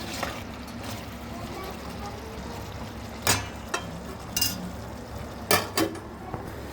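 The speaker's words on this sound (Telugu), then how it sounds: "ఆయిల్ అయితే బాగా వేడైందండి. ఆనియన్ ఫ్రై చేస్తున్నా." Chopped onions fry in very hot oil in a pan for a home-cooked chicken curry, giving a steady close sizzle with a few sharp utensil clinks and scrapes against the cookware.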